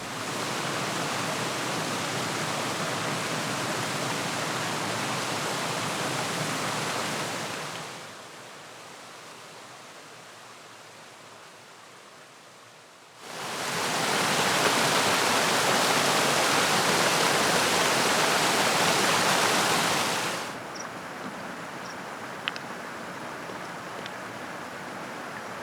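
A waterfall near a bridge on the Isle of Rum roars as a dense, steady rush of falling water, loud and close in two long stretches, dropping to a quieter distant wash between them.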